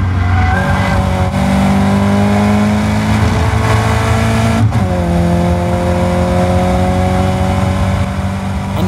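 Caterham race cars at the Silverstone circuit, with a close, loud engine droning at high revs, shifting pitch through gear changes, accompanied by faint tire noise and no talk.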